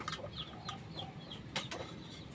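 A chicken clucks a few soft, short times at moderate distance, with faint rustling and some brief sharper noises in the background.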